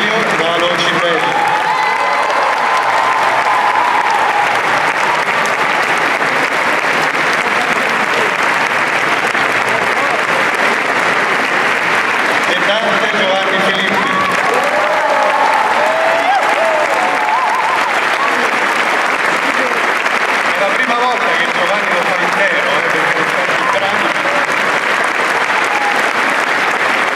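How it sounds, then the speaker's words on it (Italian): A concert audience at a staged performance of the opera La Divina Commedia applauds continuously, a dense, loud wash of clapping that swells and holds for nearly half a minute with crowd noise throughout. "ma avete già applaudito, ma li riapplaudiamo."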